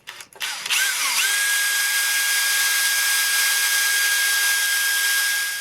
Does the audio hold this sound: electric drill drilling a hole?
yes